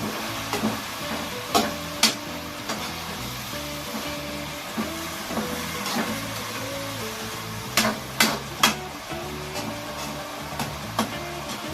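Vegetables with a pinch of salt stirred in a frying pan, a low sizzle under repeated scraping strokes and sharp clacks of the spatula against the pan.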